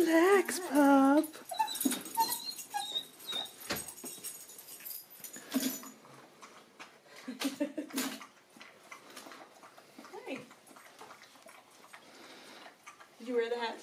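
A pup whimpers in short, high, wavering whines near the start, followed by softer scattered yips and rustling, while people talk quietly in a home setting.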